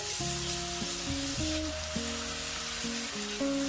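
A steady sizzle of ginger garlic paste frying in a hot pan, with a melodic tune playing over it throughout.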